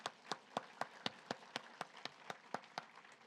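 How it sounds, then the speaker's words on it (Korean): A church congregation claps during a worship service, a quiet, evenly paced series of about a dozen crisp claps in steady unison rhythm. "우리 하나님께 영광과 박수를 드리겠습니다."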